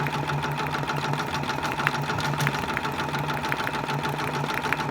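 A Brother Persona PRS embroidery machine stitches a mermaid design onto an inexpensive hat, giving a steady, fast mechanical chatter with a constant motor hum, moderately loud and uninterrupted for the whole stretch.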